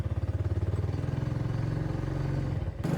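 A motorbike ridden from home toward a bus stop on the outskirts of Hanoi, its engine chugging in a steady low pulsing drone close by, with a brief shift in tone near the end.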